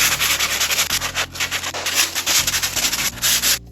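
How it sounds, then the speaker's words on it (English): Bondo filler is sanded off the body of a 1977 Porsche 911 IROC project car, a loud, continuous, close-up abrasive rasping with rhythmic back-and-forth strokes and no voices. "I'm gonna go ahead and continue sanding all this Bondo off, getting it really smooth."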